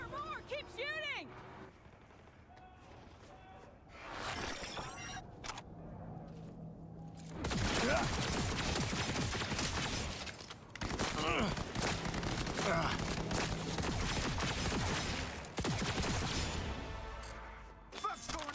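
Gunfire in the video game Cyberpunk 2077: Phantom Liberty, with bursts of shots and crashes crowding the second half, loud and dense, mixed with game sound and voices talking over the action.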